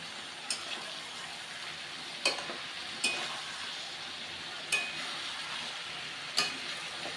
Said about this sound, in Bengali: এইবার আমি বাকি সবজিগুলো দিয়ে দেবো কারণ এই সবজিগুলো সেদ্ধ হতে কিন্তু বেশি সময় লাগে না